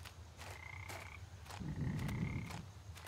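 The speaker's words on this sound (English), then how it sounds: "Got the Croaky Frog." A frog in a horror video game gives a low, rattling croak midway through, surrounded by faint ambient tones and a few soft clicks, with no talking.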